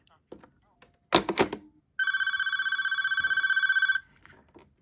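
An electronic corded telephone ring trills steadily for about two seconds, close and loud, after a clunk of the phone being plugged in and a few spoken words.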